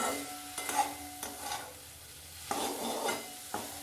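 Prawns fry in a curry pan with a steady low sizzle, broken by several scraping stirs of a utensil against the pan, close and with no voices.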